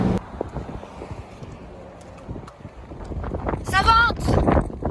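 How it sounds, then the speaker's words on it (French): Strong, gusty New Mexico wind of 60 to 70 km/h with gusts past 100 roars and buffets the microphone in a low, uneven rumble, with a voice briefly breaking through near the end. "Ça vente!"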